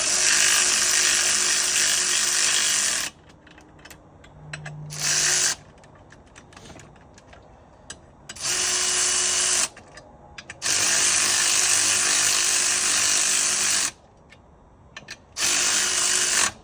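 A power tool drives bolts while mounting a supercharger kit on a BMW E36 318ti, loud whirring bursts repeating in several long runs separated by short quiet pauses, close by.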